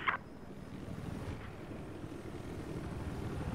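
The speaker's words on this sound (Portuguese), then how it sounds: "Tem helicóptero inimigo, ó." Enemy helicopter in the Battlefield 4 video game, a steady low rotor drone throughout, moderately loud and continuous with a brief higher flutter at the start, no talk.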